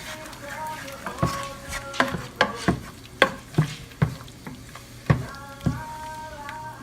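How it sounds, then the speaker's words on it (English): A spoon scrapes and clacks around a pot of catfish gumbo, giving irregular knocks and scrapes over a soft sizzle, with a faint voice now and then. "I'm going to stir all this up."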